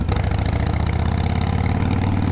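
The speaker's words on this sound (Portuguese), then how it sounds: "E é aí que entra a motocicleta" A Harley-Davidson motorcycle engine idles close by with a loud, lumpy, rapid pulsing throb that stays steady throughout, with no talking.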